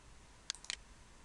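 A computer mouse clicks while drafting in AutoCAD, a few faint, crisp clicks in quick succession against a quiet background.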